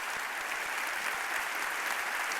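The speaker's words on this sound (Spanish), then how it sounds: "Recibámoslo con un aplauso." Steady crowd applause at a university event welcoming a speaker, dense and even, heard at a distance and fairly faint, without voices.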